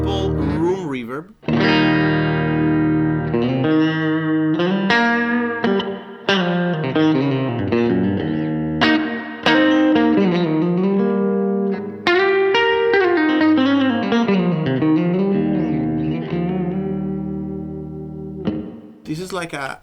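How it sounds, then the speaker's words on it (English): Electric guitar played through a Cornerstone NUCLEO pedal set to a simple room reverb, clean sustained chords and melodic notes ringing with a short ambient tail, loud and alone without talk. "This is a simple room reverb."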